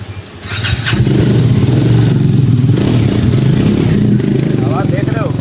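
A Bajaj Dominar 400 motorcycle fitted with a half exhaust, its engine rising after a quiet start into a loud, rough, sustained rev close by, with some rattling over the throbbing note.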